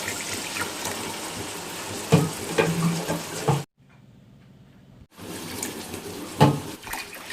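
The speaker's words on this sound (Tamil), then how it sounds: "அந்த 2 கப் அரிசிக்கு 4 கப் தண்ணி ஊற்றுறேன்." Water pouring from a cup into two cups of rice in a pot for Tamil-style fish biryani, a steady gushing splash that stops briefly and resumes, close and fairly loud.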